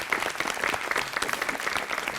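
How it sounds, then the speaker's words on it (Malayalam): The audience at a comedy show claps in a brisk, moderately distant patter of hand claps with a slightly uneven rhythm, and no one speaks over it. "കൈയടിക്കുന്ന"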